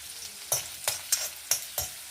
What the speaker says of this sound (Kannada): ಬೆಳ್ಳುಳ್ಳಿ ಹಾಕೊಂಡೆ ಎಲ್ಲ ರೋಸ್ಟ್ ಆಗ್ತಾ ಇತ್ತು